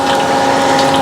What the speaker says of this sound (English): The water's running in here, and it dips the coolery things down into the water.